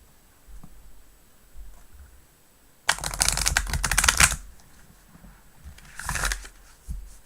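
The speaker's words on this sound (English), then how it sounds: "that was a good shuffle." A burst of rapid riffling as a tarot deck is shuffled, about a second and a half long, followed by a shorter second riffle, fairly close with no talking.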